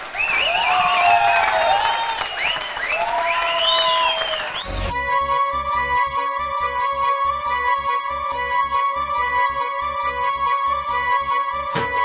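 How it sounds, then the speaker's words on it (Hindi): An audience at a business gathering welcoming a speaker, with loud applause and cheering at first, then a sudden switch to a steady, dense layer of clapping mixed with music. "आपकी जोरदार तालियां"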